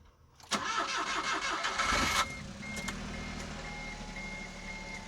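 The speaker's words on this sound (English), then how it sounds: "let's go ahead and hop inside and do a quick cold start" A 2009 Smart Fortwo Brabus cold-starts with a sharp crank and catch, revs up loudly for under two seconds, then drops into a steady idle with faint intermittent beeping in the background.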